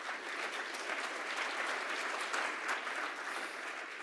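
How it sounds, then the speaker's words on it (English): A Rotary Club of Tulsa meeting audience claps steadily for the full few seconds. The applause is dense, even and moderately loud, with no voices standing out. "Let's give a round of applause."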